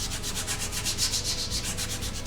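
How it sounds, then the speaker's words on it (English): Sanding block rubbing back and forth over textured trim on a Fox Body car's quarter window, steady rhythmic scraping strokes close up, about a dozen even passes with no voices. "we're going to go ahead and sand some of this texture off."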